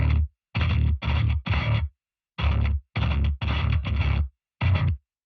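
Bass guitar played through a dirty amp channel with distortion amp simulation and a cab impulse response, heard as a series of loud, gritty chugging bursts in short groups separated by brief silences, with no talking.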